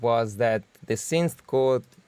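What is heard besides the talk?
No distinct noise like a dog, phone or traffic.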